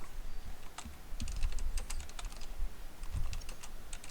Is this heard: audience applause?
no